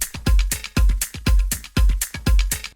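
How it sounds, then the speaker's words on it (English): Afro house percussion loop of congas layered with a cowbell, hand-drum thumps and slaps repeating in a tight steady groove with a bright metallic ring on top, loud and up front with no voices. "And then layered with the cowbell that sounds like this."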